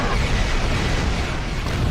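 Disruptor fire strikes an enemy ship in a Star Trek space combat game, a dense, loud, rumbling explosion and roar that fills the whole moment without pause.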